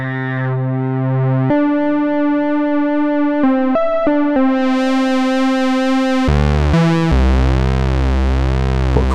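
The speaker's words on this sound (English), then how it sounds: "Let's put phase distortion on, so this will give us PWM." A Genki Katla synthesizer plays square-wave tones with phase distortion giving pulse-width modulation, a loud buzzy sustained note shifting pitch in steps, with brief stabs and a sweeping, brighter timbre toward the end.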